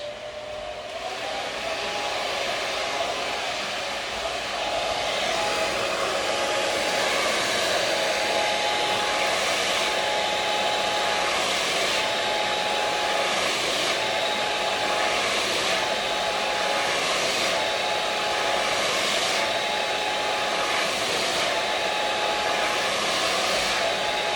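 A blow dryer runs on hair lifted at the roots during a Redken salon blowdry, with a steady, close, continuous whoosh throughout and no talking.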